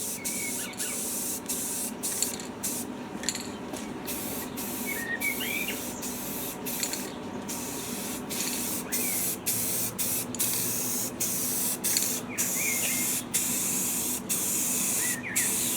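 Rust-Oleum black spray paint hisses from a can onto a postie motorbike part in long, steady close-up bursts separated by brief pauses, with no speech.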